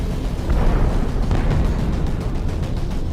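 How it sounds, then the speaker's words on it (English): A massive explosion as the Outer Heaven fortress is destroyed in a Metal Gear anime: a dense, sustained rumbling roar, loud and continuous throughout with no separate blasts standing out. "Snake threw himself to the ground as Outer Heaven imploded behind him"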